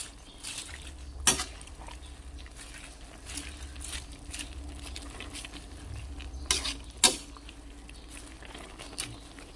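Chop suey vegetables being stirred in a sizzling pan, a continuous low frying hiss with scattered scraping strokes and a few sharp utensil clanks against the pan.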